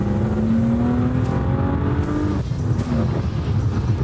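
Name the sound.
six-cylinder car engine revving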